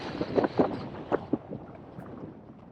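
Strong wind buffeting the microphone on the summit of Harrison Stickle in the Langdale Pikes on a very windy day, a rough rumbling roar with gusty bursts fading toward the end.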